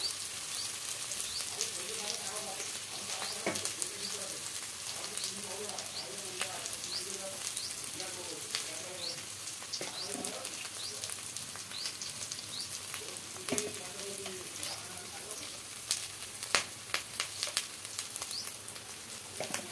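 Ground spices such as coriander and Kashmiri chilli powder fry in hot oil in a pan for a prawn curry with ridge gourd and potato, a soft steady sizzle with faint scraping and crackles under quiet background sounds.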